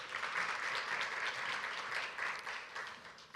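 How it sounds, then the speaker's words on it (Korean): Large audience applause for a company CEO at a university forum, a steady, moderately distant wash of many hands clapping with gentle swells in loudness and no voices over it. "송상호 대표이사님께 다시 한번 큰 박수 부탁드립니다"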